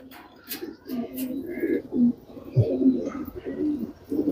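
Fancy pigeons of an old breed coo in soft, throaty bursts, several birds overlapping close by with a few faint chirps mixed in.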